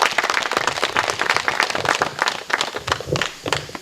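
A forum audience in a hall gives a round of clapping, a fairly close burst of uneven, overlapping hand claps that rises and dips for a few seconds.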